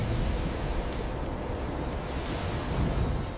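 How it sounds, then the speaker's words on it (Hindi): Stormy sea surf churning and crashing in a steady broad roar with wind, swelling slightly near the end, no voices. "एक दिन तेज तूफान आया, लहरें ऊपर तक उछलने लगी।"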